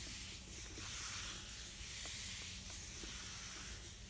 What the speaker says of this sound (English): just give it a good rub. Make sure that you're making contact everywhere.